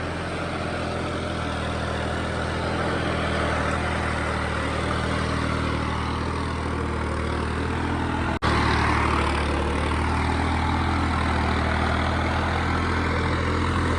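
A New Holland 3630 tractor's heavy diesel engine runs steadily at idle, a constant low rumble close up, with one brief break partway through.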